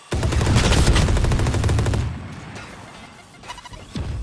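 Rapid automatic gunfire from the Valorant video game rattles loudly for about two seconds as shots hit the agent Yoru, followed by quieter game sounds and a final short burst of shots.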